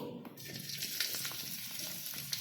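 Garlic dropped into a couple of spoonfuls of hot oil gives a soft, continuous crackling sizzle, faint and steady throughout.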